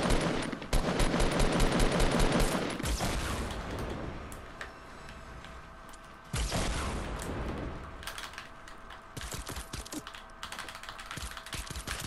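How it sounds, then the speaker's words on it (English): Rapid gunfire from Fortnite Battle Royale weapons, with dense automatic bursts in the opening seconds, then quieter stretches broken by sharp shots and further volleys, loud and close throughout. "You're in a gunfight."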